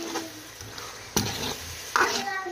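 Potatoes frying in spiced masala in a pan give a steady soft sizzle, with a few clinks of a spoon scraping and stirring against the pan.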